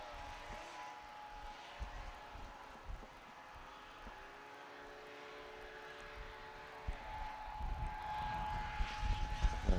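The thrust engine of a racing hovercraft at a Towcester race has an engine problem. It makes a steady, droning, propeller-like roar with a wavering tone that builds louder toward the end, with no voices.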